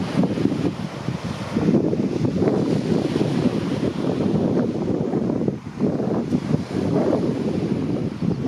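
Steady roar of surf with wind buffeting the microphone, a continuous rushing wash without distinct breaks.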